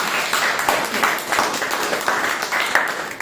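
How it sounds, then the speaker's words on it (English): A meeting audience claps for a lecturer, a moderately loud, steady patter of hands in a room, fairly even throughout without voices standing out. "Let's have another applause for our lecturer."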